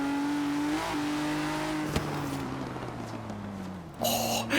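A 2017 Ford GT with a 3.5-litre twin-turbo EcoBoost V6 runs steadily with a gargling engine note that shifts pitch, then gives a short crackle and a louder rev burst near the end.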